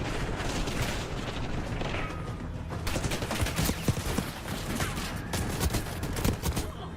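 Shotgun fire sounds in the video game Warzone amid a dense, busy mix of game audio. Sharp blasts and impacts are scattered irregularly, several close and loud, with no clear speech.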